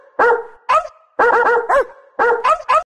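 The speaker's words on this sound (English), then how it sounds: "The dog." A dog barks in loud, sharp bursts, roughly six or seven barks grouped in short clusters with brief pauses between, close and clear with no talking.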